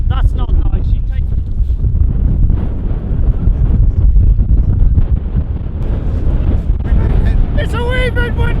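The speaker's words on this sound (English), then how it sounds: "It's a wee bit windy out here in Scotland on the sea." Strong wind blows at sea off the Scottish coast, a loud, continuous buffeting roar across the whole stretch. People talk over it at the start and again near the end.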